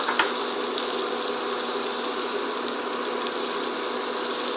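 Celery, carrots and onions sautéing in a pan for chicken pot pie, a steady close sizzle and hiss that stays even throughout, with no one talking.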